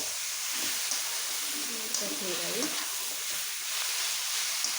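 Fenugreek leaves stirred in hot oil in a pan give a steady, soft sizzling hiss throughout, with faint scraping of the stirring in the middle and no voices.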